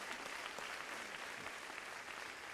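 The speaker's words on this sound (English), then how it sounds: "definitely worthy of applause" Audience applause at a Temple University School of Media and Communication commencement ceremony: a steady, dense wash of clapping from a large crowd, sustained and fairly even throughout, heard at a distance with no voice over it.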